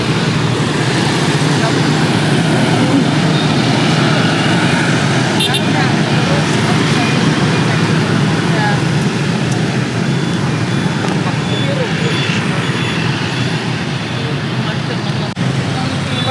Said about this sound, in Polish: W międzyczasie podglądamy ruch uliczny.